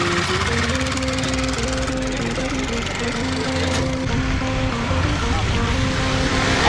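KTM RC Cup racing motorbikes run together on a track, a loud continuous droning engine note with steady pitched harmonics and no speech over it.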